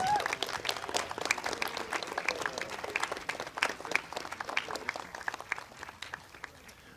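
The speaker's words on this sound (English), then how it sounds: "Give them a round of applause." Applause from a school band concert audience honoring graduating jazz clarinetists: scattered, fairly distant clapping from a modest crowd that thins out gradually toward the end.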